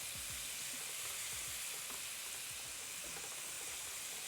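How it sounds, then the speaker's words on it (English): Garlic frying in a pan before pork chops go in, a soft continuous sizzle and hiss with faint stirring, quiet and without talk. "I'm going to allow that to fry for about 30 seconds or until fragrance."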